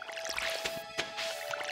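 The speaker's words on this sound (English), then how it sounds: "Just gonna water the plants." A watering can pours over crops in Stardew Valley, making soft squishy splashes and drips in a short run of quick bursts over quiet background music, with no talking.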